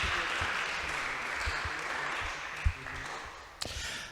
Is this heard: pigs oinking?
no